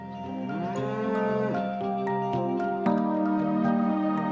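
Dairy cows on a farm moo repeatedly in long, drawn-out lowing calls that overlap one another, loud and close, with no talking.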